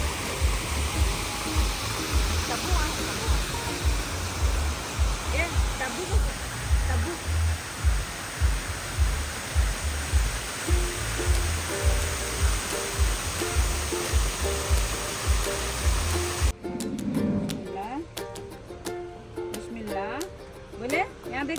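A waterfall pours down a mountainside in Goa with a dense, steady roar. It stays loud and constant for most of the span, then the sound shifts and thins near the end.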